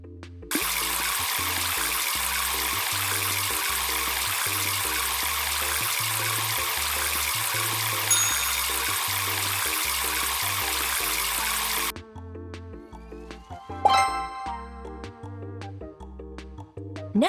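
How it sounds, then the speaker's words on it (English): Shower water runs steadily as a loud, continuous broadband hiss for about eleven seconds under light background music, then cuts off, leaving the music with a brief clatter. "Turn on the shower."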